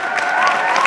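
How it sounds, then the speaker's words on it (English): Close, dense applause from a church audience, a steady patter of many hands clapping with faint crowd noise. "Everyone, clap for Sister Fragapane."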